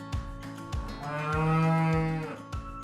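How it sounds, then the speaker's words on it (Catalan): A single cow gives one long, deep moo that swells and fades, loud and near, over a soft rhythmic thumping backing. "Sí, una vaca."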